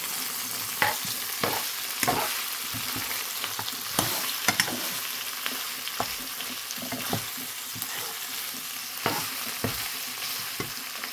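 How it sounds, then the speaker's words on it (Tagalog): Pork steak and onions sizzle and fry in a pan while being stirred, a loud continuous crackle with repeated sharp scraping knocks from the stirring. "Halo, mix na natin."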